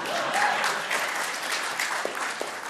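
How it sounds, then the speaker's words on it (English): An indoor audience at a school district event claps, with dense, moderately loud applause spread across the room and a few sharper individual claps near the end. "So, you can clap for them."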